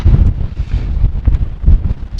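Strong gusts buffet the microphone outdoors at Ros Castle during a windy wild camp, a loud, continuous low rumble that swells and surges in uneven bursts, with no voices.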